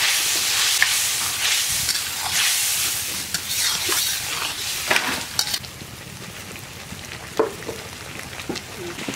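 Spice paste of chili paste, turmeric and water frying and being stirred in a pan for a Bhola fish and brinjal curry, a steady loud sizzle with occasional scraping stir sounds, fading somewhat toward the end.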